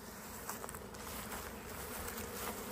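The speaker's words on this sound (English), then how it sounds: "I just want to show you this, what scout bees look like." A swarm of scout honey bees buzzes steadily outdoors, a dense continuous hum with a few louder passes of individual bees close by, no talking.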